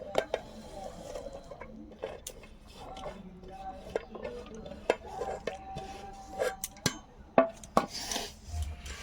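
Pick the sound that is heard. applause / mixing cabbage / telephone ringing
mixing cabbage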